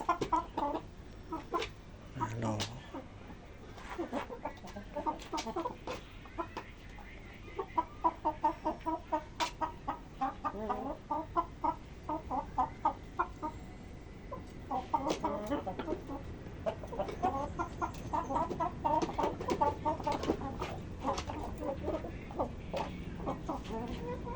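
Thai Choeng breed chickens cluck repeatedly and closely in a farm pen, with bursts of rhythmic clucking throughout and someone talking intermittently in between.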